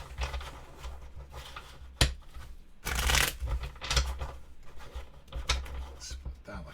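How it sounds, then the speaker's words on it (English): Playing cards riffle together in a quick fluttering burst, followed by softer taps and shuffling noises up close. "We are going to do a riffle shuffle."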